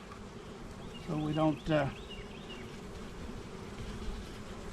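Honey bees buzzing around an open hive during a spring inspection, a soft steady hum with a couple of louder passes close by around the middle, and a person speaking briefly.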